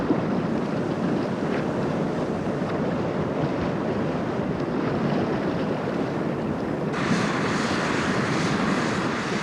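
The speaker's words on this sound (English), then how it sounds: "the pillar of black oil gushing from the wellhead" Crude oil gushes from a wellhead in a steady, loud, broadband roar with no pauses, heard alone without voices.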